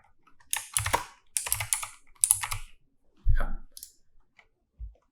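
Fingers tap out short bursts of keystrokes on a computer keyboard, about four quick clusters of clicks separated by brief pauses, followed by a single isolated click.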